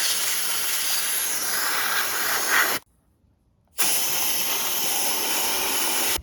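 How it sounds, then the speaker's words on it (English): Datsun 280Z L28 engine parts, including the oil pump, are sandblasted in a steady loud hissing blast that stops for about a second, then resumes. "Gonna sandblast and clean all this stuff up for the engine, even the oil pump"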